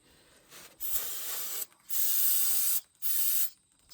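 Three loud hissing bursts of spray, each lasting about a second with short gaps between, hose down the axle shaft of a 1954 Metro, close by.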